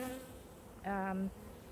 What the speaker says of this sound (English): there are a few bees going in and out of the entrance